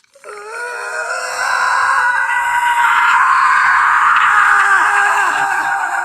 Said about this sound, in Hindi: फोन के स्पीकर से एक बहुत तेज चीख निकलती है